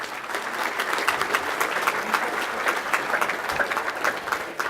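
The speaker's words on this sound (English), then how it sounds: "So I want to give them a round of applause." A room full of guests at a high school football banquet gives a round of applause, with dense overlapping claps and distinct individual hand claps standing out, steady and moderately loud.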